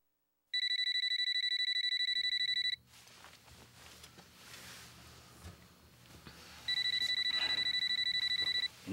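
An electronic telephone rings indoors in a home in a TV drama scene. It gives a high, rapidly pulsing ring for about two seconds, goes quiet amid faint room noise, then rings again.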